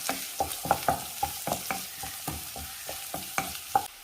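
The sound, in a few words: frying sliced onions in a pan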